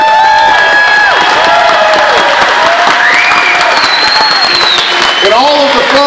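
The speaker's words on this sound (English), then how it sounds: "Let's give them a round of applause" A large crowd welcoming Honor Flight veterans breaks into loud, sustained applause with cheers and whoops, while a voice talks over the continuous clapping.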